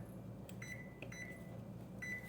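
A kitchen oven timer being set gives several short electronic beeps in an uneven pattern, faint and fairly close, over a low room hum with no talking.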